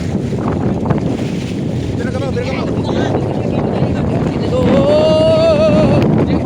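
Strong monsoon wind buffets a fishing boat at sea, a loud constant roar with heavy microphone rumble, as voices call out over it.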